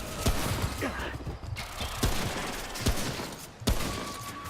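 Rapid pistol shots ring out in a first-person survival video game, several sharp cracks spaced about a second apart over a background of game ambience and mechanical clatter, with no speech.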